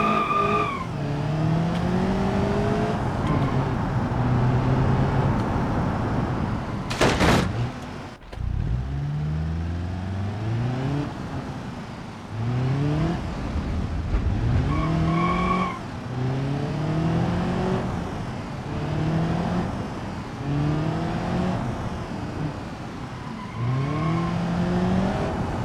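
A 1.4 liter car in BeamNG.drive revs up through the gears again and again, its engine note rising in repeated sweeps, with a brief loud crash or skid partway through and no talking.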